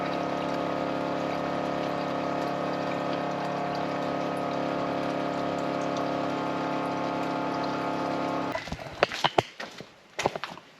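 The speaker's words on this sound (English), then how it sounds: "We'll hear when the fuel pump starts making a different noise" The fuel pump of a 1959 Volkswagen Beetle convertible hums loud and steady for several seconds, then cuts out into sputtering, gurgling splashes of fuel draining into a bucket.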